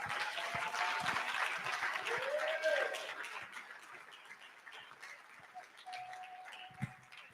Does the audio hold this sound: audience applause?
yes